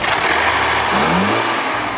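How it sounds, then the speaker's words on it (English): Turbocharged four-cylinder Ford-built engine of a 2015 Land Rover Discovery Sport crossover, a steady close engine drone with a brief rising rev in the middle, heard alone without talk. "This crossover's only engine is a turbocharged 4-cylinder designed and built by Ford."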